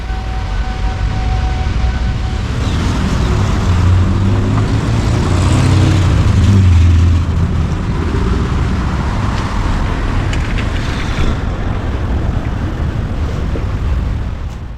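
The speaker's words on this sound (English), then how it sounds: "That truck passing there is washing the road." A street-washing truck rolls past on a São Paulo road, its steady engine roar and water hiss swelling at mid-clip and then easing off, over continuous city traffic noise.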